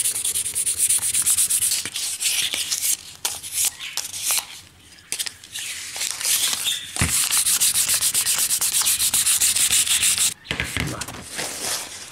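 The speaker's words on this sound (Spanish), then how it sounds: "con una lija, que en este caso es grano 1500" A knife blade rubbed with 1500 grit sandpaper for polishing: steady, close, hissy scraping strokes in a continuous rhythm, with brief pauses between passes.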